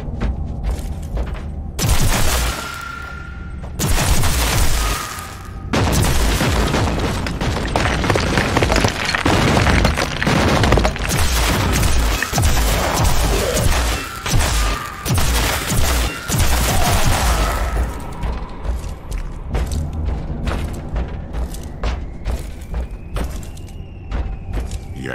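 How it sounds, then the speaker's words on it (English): Grenade blasts and heavy gunfire in the Warhammer 40000: Inquisitor - Martyr video game, dense loud booms and rattling bursts that continue almost without pause before thinning out toward the end. "Yes, a grenade."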